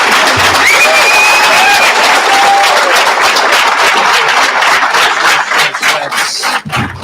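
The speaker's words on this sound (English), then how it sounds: "Can we give them another round of applause?" Loud, sustained audience applause fills a graduation ceremony hall, dense clapping with some cheering holding steady before thinning out near the end.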